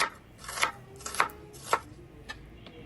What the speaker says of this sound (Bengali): যা লাগবে সব উপকরণগুলো কেটে নিচ্ছি।